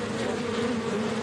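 A dense swarm of bees buzzes continuously, a thick steady drone that fills the whole moment, close and loud with no other sounds.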